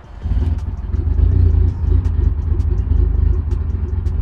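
A 2003 Mitsubishi Lancer Evolution VIII engine rumbles steadily while driving, deep and loud, with a smooth continuous drone and faint light ticks on top.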